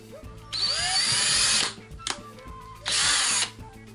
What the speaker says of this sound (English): So I am going to drill a hole in this